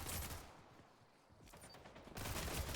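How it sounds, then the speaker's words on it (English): Gunfire in the survival game Raft, a dense burst of rapid shots that dips briefly in the middle and then returns louder and sustained toward the end. "hear the gunfire from the game"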